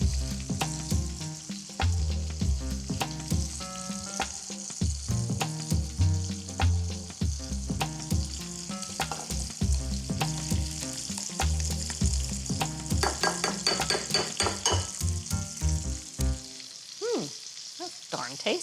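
Fish fries in a non-stick pan with a steady, close sizzle and crackle, dotted with small pops and scraping taps, before fading near the end; no one speaks.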